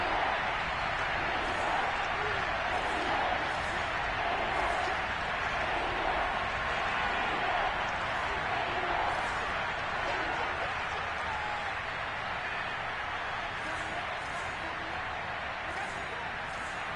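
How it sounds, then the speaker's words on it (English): A stadium crowd roars in a constant, dense wash of cheering and noise at Arrowhead in Madden 22, sustained and loud throughout. "this is where the Arrowhead crowd can make it very tough"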